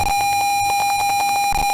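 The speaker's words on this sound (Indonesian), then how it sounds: "Maka di sini buzzer akan menyala sebagai indikator suara dan pompa" An Arduino buzzer set up as a dry-soil alarm in a plant-watering setup beeps in a fast, even run of short electronic pulses, loud and steady with no talk.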